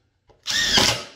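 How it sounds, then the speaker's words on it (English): A power drill drives a screw into a cedar fence board for a raised garden bed, a short whirring burst after a faint click, close and loud with no talk. "just make sure everything's flush and we start screwing things down"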